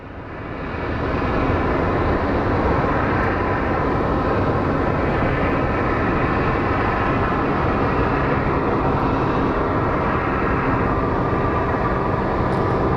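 Jet airliner, a Boeing 757 with winglets, at Sky Harbor International Airport in Phoenix, its engines roaring loudly and steadily after a quick swell, a broad continuous rumble with no talk.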